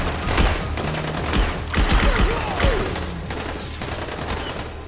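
Rapid bursts of gunfire from the video game Dying Light, dense overlapping shots and mechanical clatter sustained loudly throughout, with no talking.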